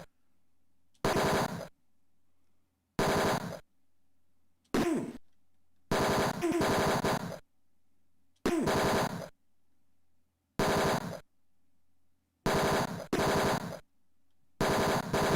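Gunshots from the video game Tex Murphy: Mean Streets ring out in about nine short, harsh bursts, each separated by a second or so of silence.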